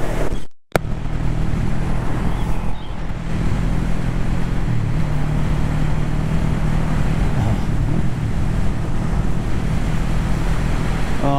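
Steady wind buffeting an outdoor microphone, a broad continuous rumble with a brief dropout near the start, loud and with no voices.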